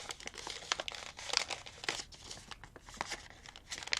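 Paper or card being cut and handled for a handmade tuck-and-window flip-out craft piece: close, crisp crinkling and snipping bursts in an irregular rhythm, with no talk.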